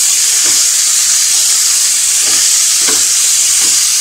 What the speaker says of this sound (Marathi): हे सुद्धा आपण व्यवस्थित असं परतून घेऊया